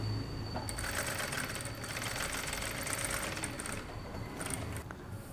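A sewing machine runs steadily, stitching crosswise along a fabric edge with a continuous close mechanical whir and light rapid ticking that holds at an even level throughout, with no voices.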